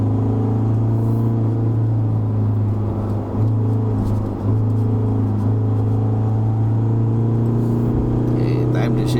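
A 2021 Isuzu D-Max X-Terrain pickup pulling in third gear on a Genting hill road, heard from the cabin as a steady, even engine drone with a constant low hum and a voice speaking over it.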